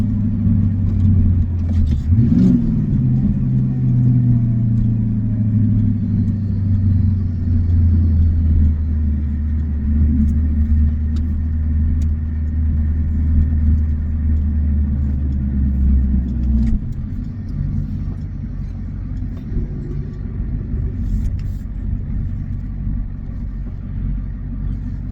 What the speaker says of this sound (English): I'll put the pedal down and we'll see what kind of acceleration she's got